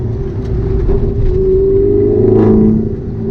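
A 2007 Opel Corsa OPC with a 1.6-litre turbo four-cylinder and full exhaust line rumbles steadily from close by, a low drone swelling slightly as revs rise mid-clip, with no talking.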